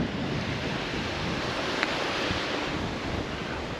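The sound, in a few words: Atlantic Ocean waves on beach, Bahia Honda, Florida Keys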